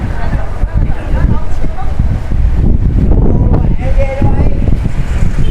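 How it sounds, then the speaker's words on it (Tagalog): Strong wind in Da Nang, Vietnam buffets the microphone in loud, rumbling gusts throughout, with faint voices and other sounds partly buried beneath it. "Pero sobrang hangin."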